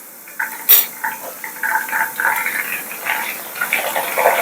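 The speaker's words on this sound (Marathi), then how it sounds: "थोडे तळून झाले की मग आपण त्यांच्यामध्ये मीठ पाणी टाकून घेणार." Salt water splashes into hot oil frying potato wafers with a sharp burst, then a steady crackling, bubbling sizzle that swells and continues close by.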